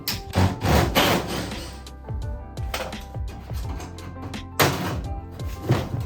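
A metal knockout on a range hood vent being struck and worked loose around its tack weld spots, a run of sharp, close metallic knocks and thunks with brief gaps, loud and with no voices.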